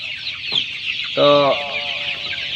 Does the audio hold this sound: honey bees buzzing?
no